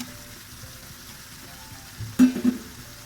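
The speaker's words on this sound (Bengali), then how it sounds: "মূলাগুলা ভালোভাবে সিদ্ধ হয়ে গেছে উল্টা পাল্টায় কষিয়ে রান্না করে নেব" Boiled radish being stir-fried in a pan, a low steady sizzle with a brief louder burst of scraping and stirring near the end.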